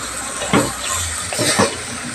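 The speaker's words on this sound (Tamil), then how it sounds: "கொஞ்சமாக தண்ணி சேர்த்திக்கலாம்" Water runs and splashes steadily into a pot of village-style chicken curry, with a few louder gurgling pours standing out over the continuous hiss.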